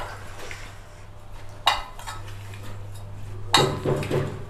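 Spices being stirred into radish pieces in a bowl for radish pickle, heard as close scraping and clinking of utensil against the bowl, with two sharper knocks over steady low kitchen hum.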